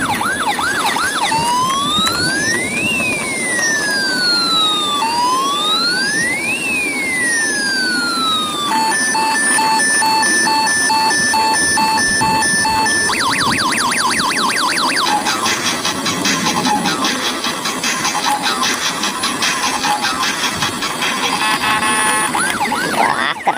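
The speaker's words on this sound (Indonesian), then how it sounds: "Oke, sekarang di sini ada mobil ambulan." A toy ambulance blares a loud electronic siren that cycles through wailing sweeps, fast yelps and hi-lo and rapid warbling patterns, nonstop and up close.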